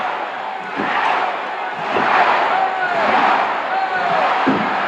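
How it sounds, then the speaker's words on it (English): A large crowd at a classic Houston wrestling match roars and murmurs steadily in a big hall, swelling at moments, with occasional thuds underneath. "And the crowd gets with it."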